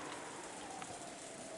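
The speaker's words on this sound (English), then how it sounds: "Through the window, the darkness of the rainy night could be seen, along with the occasional thunder." Steady rain falls on a dark night in the Umineko visual novel, a soft, even hiss with no breaks and no voices over it.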